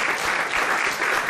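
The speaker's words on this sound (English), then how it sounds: "maybe again an applause for this guy" A conference audience at a panel discussion on ocean plastic bursts into steady, dense applause, a continuous wash of many hands clapping fairly close and loud with no talk over it.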